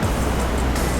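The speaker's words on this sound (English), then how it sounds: "Here is Uvita Waterfall." Uvita Waterfall in Costa Rica pours in a steady, loud, dense roar of falling water, close by and unbroken, with no voices.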